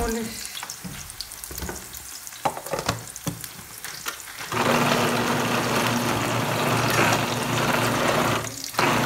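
Onions softening in oil in a clay cazuela for shredded-beef picadillo, first some clattering and handling, then a loud, dense, continuous sizzle close by.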